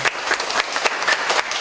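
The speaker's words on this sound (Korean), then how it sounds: "축하의 박수" Congratulatory applause at a school student council vice-president election, a brief burst of dense clapping from a group, steady and fairly close.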